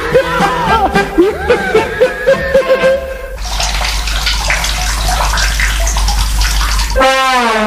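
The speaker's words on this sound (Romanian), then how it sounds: "Și apa curge. Și curge. Și curge." Tap water running in a 1967 film scene: voices and melodic sounds come first, then a loud, steady gush of flowing water dominates for several seconds before a brief tonal sound returns at the end.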